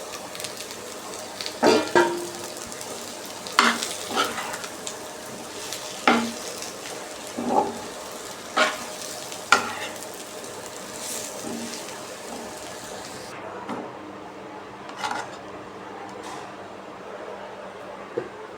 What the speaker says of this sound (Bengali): এখন পটল ভাজিটা দিয়ে দিব।